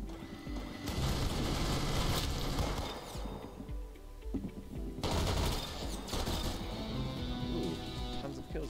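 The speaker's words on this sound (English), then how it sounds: "I get the Gatling gun and I just get lost in." Gatling gun in the Roblox game Arsenal firing in long sustained bursts, dense rapid rattling that cuts out briefly midway and then resumes, loud and continuous.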